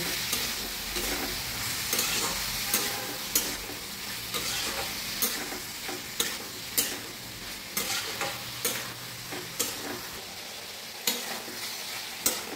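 Chillies and mustard paste being stirred and sautéed in a pan, with steady sizzling frying under repeated sharp scrapes of a spoon against the pan at a brisk, uneven rhythm, close and fairly quiet, no talking.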